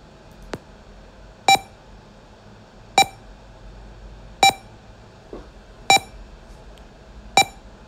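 Metronome beeps from a program written on an IchigoJam computer: six short, bright electronic beeps evenly spaced about one and a half seconds apart, with a faint tick before the first, over quiet room noise.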